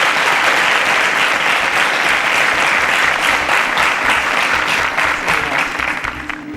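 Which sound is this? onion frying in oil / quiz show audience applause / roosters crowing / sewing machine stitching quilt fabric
quiz show audience applause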